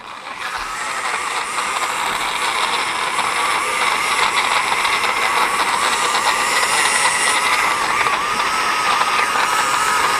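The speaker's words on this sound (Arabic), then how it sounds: "الى حد ما الخلاط شغال كويس" A steady, loud blender motor whirs continuously with a gritty, rattling mechanical hum and no pauses, close to the listener, blending fruit.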